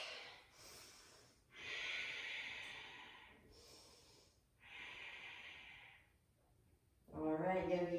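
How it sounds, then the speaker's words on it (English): Deep, slow breaths during a yoga forward fold in a vinyasa flow: long airy inhales and exhales come in three or four drawn-out waves, close and soft, ending in a louder, rougher breath. "As you forward fold it, breathe into your lower back."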